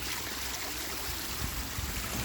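Water flowing through a saturated pipe, a steady close gushing and trickling with a soft gurgle underneath, continuous and fairly quiet with no talking.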